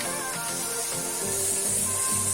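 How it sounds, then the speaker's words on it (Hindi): Chop patties fry in hot oil until brown, a steady dense sizzle and hiss that runs close and continuous with no pauses and no voices. "ये ब्राउन कलर होने तक फ्राई करना पड़ेगा।"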